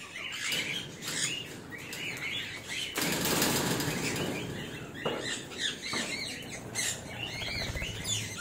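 Parrots feeding from a hand at the Yelagiri bird park flap their wings in repeated flurries, with bright chirps scattered through, all close and fairly quiet.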